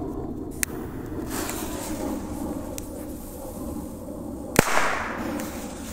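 Two sharp bangs from cheap Chinese firecrackers, the first a crisp crack early and a louder, heavier blast near the end, with a fainter pop between them, set outdoors over a steady low rumble of background noise.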